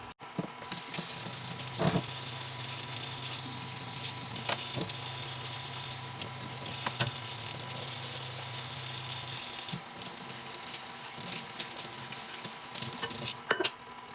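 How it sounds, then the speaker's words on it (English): Dishes washed by hand in a home kitchen: a steady rush of running water with scattered clinks and knocks of plates and utensils, and a low hum in the background. "now I'm gonna go ahead and wash the dishes while I'm waiting for that to reconstitute"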